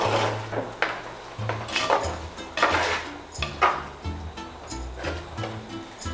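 A spoon stirs Chettinad-style mutton masala in a pan after a ground paste and a little water go in, giving a series of clattering scrapes and knocks against the metal at an uneven pace, close by.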